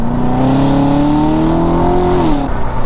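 A supercharged 660 hp Corvette engine revs hard while driving, a loud, steady rising drone with strong harmonics that climbs in pitch and then drops off near the end.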